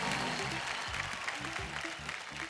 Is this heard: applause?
yes